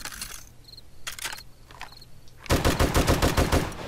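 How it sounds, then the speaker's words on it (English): Unsilenced firearm in the zombie survival game 7 Days to Die, Alpha 18: a loud, rapid volley of gunshots cracks out in the second half after quieter reload clicks and handling noises. "let's fire off a few rounds without the silencer on there"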